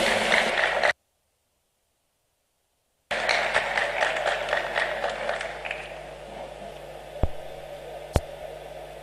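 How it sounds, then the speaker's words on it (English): Audience applause greets a vice chancellor taking the stage at a formal commemorative lecture, broken by a gap of silence and then a steady wash of clapping that tapers off with a couple of sharp knocks near the end. "Please help me welcome with a warm round of applause"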